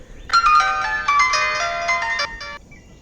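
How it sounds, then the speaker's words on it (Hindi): A mobile phone ringtone plays loudly and close by, a bright electronic melody of repeated tonal notes lasting a couple of seconds before cutting off, with no talking. "फोन रिंग हो रहा है उनका।"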